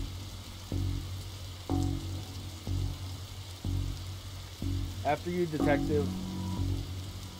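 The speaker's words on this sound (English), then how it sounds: "whenever standing in this rain stops being fun for you" Steady rain falls in The Darkside Detective video game, a soft continuous patter under periodic low thumps and game music, with a character speaking briefly partway through.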